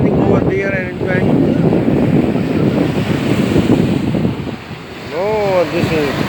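Surf washes onto a beach near Burj Al Arab in Dubai at sunset, a steady close roar under gusts of wind buffeting the microphone, with voices chatting over the waves throughout.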